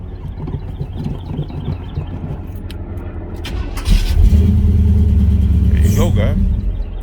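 Box Chevy Chevrolet car engine cranks for a few seconds, then catches and starts, settling into a loud, steady, deep rumbling idle close by, with voices talking over the starter.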